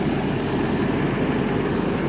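A steady, low diesel truck engine with a stock muffler and stock DPF filter idles close by, a continuous rumble with no speech.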